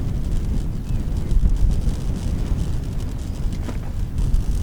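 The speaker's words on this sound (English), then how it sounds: "Can you hear me over the wind?" Wind blowing across a hilltop on Dartmoor, a loud continuous low rumble of gusts buffeting the microphone, steady with occasional surges.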